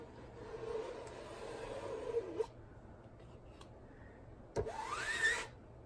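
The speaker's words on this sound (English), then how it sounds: "You want to scrape it as clean as you can." Chalk paste is scraped off a stencil in a couple of short, soft rubbing strokes, quiet and close, with near silence between them.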